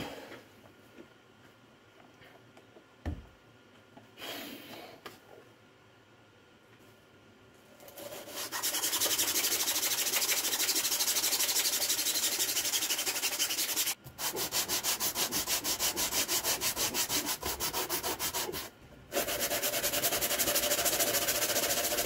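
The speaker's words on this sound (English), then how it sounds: "Manually sanding down parts sucks." Hovercraft parts being sanded down by hand, quiet handling and a few knocks at first, then long, loud, continuous scraping strokes of sandpaper rubbing the workpiece, with two brief pauses.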